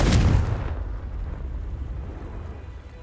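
Confringo blasting curse from the Hogwarts Legacy video game: one loud fiery burst up front that fades into a low rumbling decay lasting a few seconds, with no voices.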